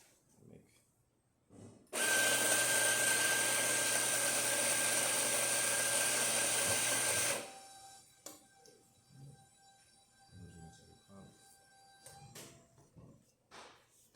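A Profitec T64 coffee grinder fitted with new burrs runs for about five seconds with a loud, steady high-pitched whir, then cuts off, leaving light tapping and handling noises afterward.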